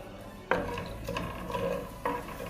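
Spices dropped into hot oil in a pan for Patiala chicken, with a few soft clattering impacts and stirring scrapes over a low background, quiet and close without talk.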